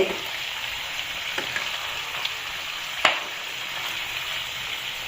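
Chicken leg pieces sizzling steadily in a hot pan, a constant crackle with a few soft taps and one sharper knock of a utensil.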